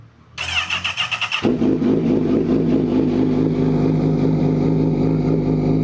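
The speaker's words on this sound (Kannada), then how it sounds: "ಇವಾಗ CBRನ ಆನ್ ಮಾಡೋಣ." A Honda CBR motorcycle, left unridden for a while, cranks briefly with a whirring starter and then catches into a loud, steady idle that runs close up to the end with no talk.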